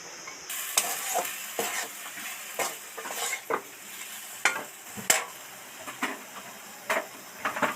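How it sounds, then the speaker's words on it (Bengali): A spoon repeatedly scrapes and stirs taro leaf curry in a pan on a gas stove, giving irregular clinks and scrapes over a soft sizzle, close and fairly quiet. "দু চার কচু ঘেঁটে দেব দিলেই একদম গায়ে গায়ে লেগে যাবে"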